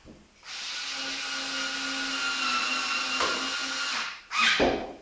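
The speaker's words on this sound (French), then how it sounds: "Donc là avec un embout donc Posidrive 2. Voilà, il ne reste plus qu'à visser pour la maintenir en place." A power screwdriver fitted with a Pozidriv 2 bit drives a screw while assembling an Einhell GE-CH 1855 Li hedge trimmer, giving a steady close whine that ends in a short louder burst.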